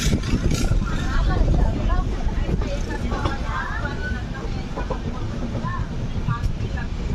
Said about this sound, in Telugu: మన ట్రైన్ ఇప్పుడే కాజీపేట జంక్షన్ స్టేషన్లోకి అయితే ఎంటర్ అవబోతుంది.